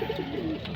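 Pigeons cooing in a loft of kept birds, a steady chorus of soft, throaty murmurs layered close together with no pauses and no talk.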